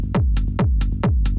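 A techno beat with a deep booming kick and crisp closed hi-hat ticks between the kicks, in a steady, tight, repeating pattern.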